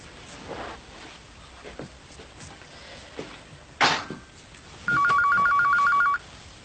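A telephone rings at night in a quiet room indoors. One steady electronic ring burst lasts just over a second, loud against the faint background, after a brief clatter.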